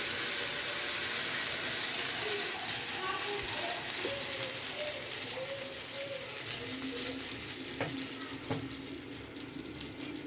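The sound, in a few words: rice batter frying in ghee and butter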